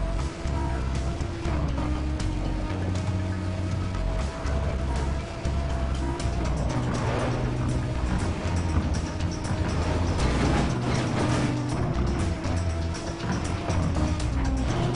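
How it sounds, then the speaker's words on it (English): A car engine in the racing video game Need for Speed World drones steadily, its low tones stepping up and down as the revs shift, continuous and fairly loud throughout. "Ah, this is a nice engine sound."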